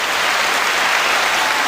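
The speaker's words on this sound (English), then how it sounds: "that round of applause is for you, not her." A round of applause plays during a talk radio show segment: a continuous, even roar of many hands clapping, loud and close, with no speech over it.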